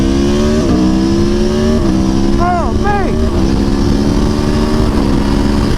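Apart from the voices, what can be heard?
motorcycle stock exhaust revving at high RPM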